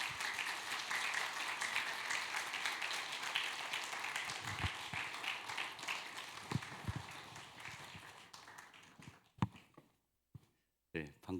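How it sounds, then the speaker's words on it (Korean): A congregation at a Sunday youth worship service gives loud, sustained applause to welcome a church elder to the stage, the clapping tapering off into scattered claps and a few sounds at the end. "우리 장로님 나오실 때 큰 박수로 환영해 주시면 감사하겠습니다."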